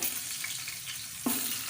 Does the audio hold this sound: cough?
no